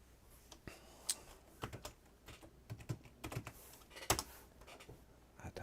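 Quiet, close keystrokes on a computer keyboard come in irregular bursts of clicks and taps with short pauses between them, the kind of typing used to rename a folder.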